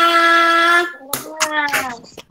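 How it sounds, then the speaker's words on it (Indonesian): A group in a school classroom gives a short patterned round of clapping. A few quick, close hand claps are mixed with children's voices and follow a sustained spoken or chanted voice. "Kita kasih tepuk hebat untuk kita semua."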